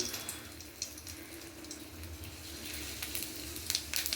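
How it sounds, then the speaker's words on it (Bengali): Two dried red chilies crackle in hot oil as a tempering for a pointed gourd bharta, a faint hiss that turns busier with sharper crackles toward the end, without speech. "এবার তেল গরম হয়ে গেছে, তাতে দুটো শুকনো লঙ্কা ফাটিয়ে ফোড়ন দিয়ে দিলাম"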